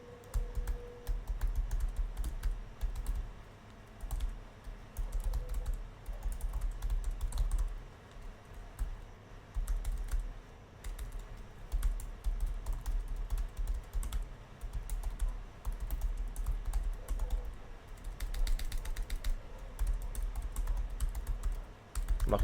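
Steady, continuous typing on a computer keyboard at a trading desk, close and fairly loud, with dense clusters of rapid key clicks running throughout and no talking.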